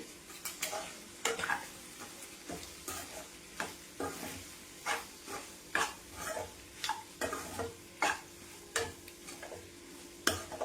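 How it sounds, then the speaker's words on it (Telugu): Goat tripe (boti) pieces, dusted with a little coconut powder, fry in a village-style Telangana pan, a steady close sizzle broken by regular scraping stirs about once a second, no voices. "బోటి పీసెస్ కొద్దిగా కలర్ చేంజ్ అయ్యే వరకు ఇలాగే ఫ్రై చేసుకుందాము."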